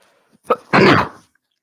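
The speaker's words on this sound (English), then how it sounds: "I need to sneeze" A single sneeze bursts out close to the microphone, with a short sharp intake first and then one loud explosive release, against an otherwise quiet background.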